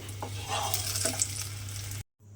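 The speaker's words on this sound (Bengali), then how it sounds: "বেগুনগুলো কিন্তু এইভাবে একটু লাল করেই ভেজে নিতে হবে" Eggplant fries in mustard oil in a pan, giving a steady close sizzle with a few brief stirring scrapes before the sound cuts out abruptly.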